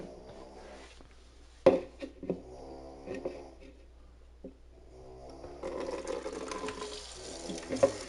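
Tap water runs into dogs' water bowls, a quiet trickle with a few sharp knocks and clatters, swelling into a fuller steady pour near the end.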